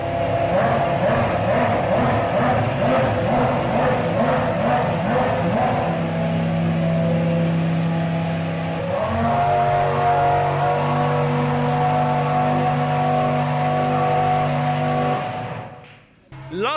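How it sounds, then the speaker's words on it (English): A high-pitched V10 Formula One engine revs close by, then holds a steady howling tone before cutting off near the end, at a historic Formula One car event. "I wish modern Formula One cars sounded like this ones."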